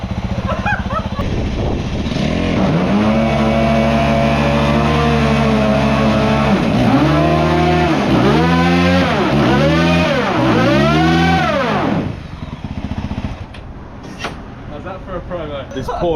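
A Yamaha WR450F motorcycle engine holds a steady loud idle, then revs up and down in four or five rising-and-falling swells before cutting off, with quieter sounds afterward.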